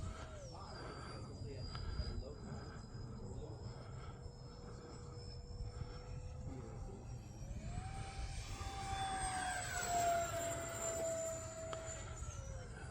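An E-flite A-10 Thunderbolt II RC jet flies overhead with a steady electric ducted-fan whine that rises in pitch partway through as the throttle comes up, close and continuous, with a person talking over it.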